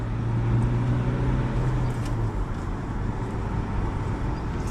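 A Chevrolet Captiva 2L TDi diesel SUV, remapped from 150 to 190 hp, pulls away under acceleration. A steady engine drone and road rumble hold throughout, with a low tonal hum early on.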